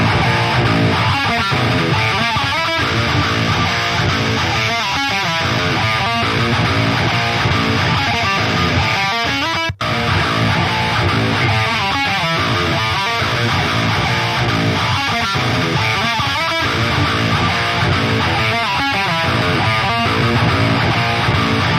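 Heavy distorted 8-string guitar riff played through the Neural DSP Fortin Cali Suite amp simulator, dense and loud throughout, with rhythmic chugging patterns repeating, no talking.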